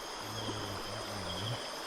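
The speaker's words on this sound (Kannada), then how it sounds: "ಆ ಕಡೆನೂ ನೀರು ಹರಿತಿದೆ, ಈ ಕಡೆನೂ ನೀರು ಹರಿತಿದೆ." River water flows around a night campsite set on an island in the middle of the river. A steady, close rushing hiss carries on without a break, with a faint low hum beneath it.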